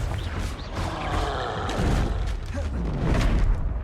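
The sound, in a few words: Confringo blasting spell explosion in a Wizarding World video game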